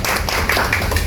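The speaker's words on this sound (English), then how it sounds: "A big round of applause." Dense, loud audience applause at a launch event, a continuous wash of many hands clapping at once with no gaps.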